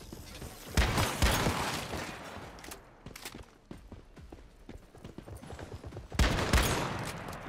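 Shotgun fire in a video game: two loud, heavy blasts several seconds apart, with quieter clattering and scattered impacts in between.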